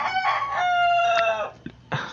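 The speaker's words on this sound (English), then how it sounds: "Sorry for the noise of the chicken outside." A chicken crowing outdoors, one loud drawn-out cock-a-doodle-doo close by, followed by a couple of short clucks, with no voices over it.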